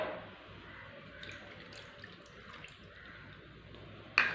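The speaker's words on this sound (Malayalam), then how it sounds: "നമുക്കിനി ഒരു 1/2 കപ്പ് വെള്ളം കൂടി ഒഴിച്ച് കൊടുക്കാം." Half a cup of water trickles faintly into semolina and yogurt in a kitchen, a soft, quiet pour with small splashy drips and a brief clink at the end.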